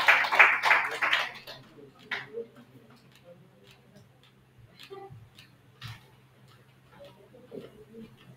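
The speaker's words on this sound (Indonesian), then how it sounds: "tepuk tangan buat Asep." A short burst of audience applause opens the scene, fairly loud for about a second, then fades as a speaker begins talking over a low steady hum.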